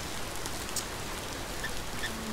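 Rain in Hunting Simulator, a constant broadband hiss of falling water with no distinct events, steady and fairly loud throughout a short stretch.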